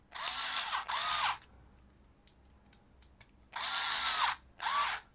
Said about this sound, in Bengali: আমি ইলেকট্রিক স্ক্রুড্রাইভার ব্যবহার করলাম